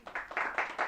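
Several quick, fairly quiet bursts of clapping from a church congregation applauding the Lord, sounding like a brief, uneven round of applause with no voices over it.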